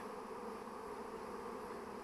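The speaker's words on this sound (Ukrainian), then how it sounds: "Ну, ось бджола сидить і вона" Steady, dense buzzing of a honeybee swarm, a continuous hum with no pauses and no voices.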